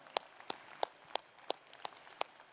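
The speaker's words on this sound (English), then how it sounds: "Yeah, you should be clapping if you're a gamer" At a smartphone launch event for the Xiaomi 13 Pro, someone claps slowly and evenly, about seven separate sharp claps spaced roughly a third of a second apart, faint against a quiet room with no talking.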